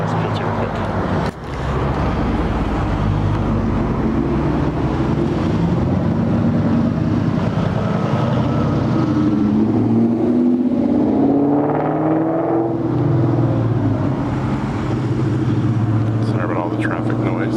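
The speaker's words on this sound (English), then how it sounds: "Traffic noise." Downtown street traffic rumbles past, a continuous loud low engine drone with passing vehicles swelling and fading, buffeted by wind on the microphone, while someone talks intermittently over it.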